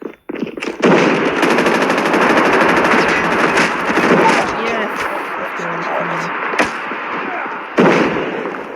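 Rapid video game machine-gun fire rattles on almost nonstop for several seconds, loud and close, with excited players talking over the shooting.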